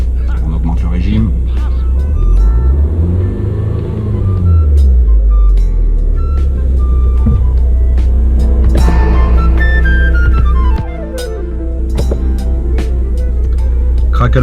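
An Audi S3 8P engine revs up and down, a loud, close rising and falling drone that swells and settles across several seconds, with someone speaking over it throughout.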